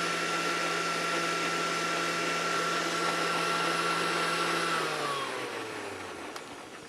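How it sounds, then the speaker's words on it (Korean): A steady, loud motorized whirring runs continuously, then its pitch drops and the sound winds down near the end as the blender slows. "퓨레를 곱게, 아주 곱게 갈아주세요"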